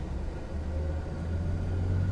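Close, low rumbling of a car moving alongside in the next lane, a steady engine drone that swells slightly as it draws near, with no voices over it.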